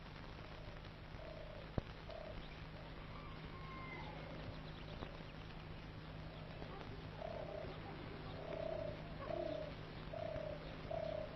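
Birds coo faintly in an oasis garden of olive and palm trees, with soft repeated calls over a steady low hum, heard mostly in the second half.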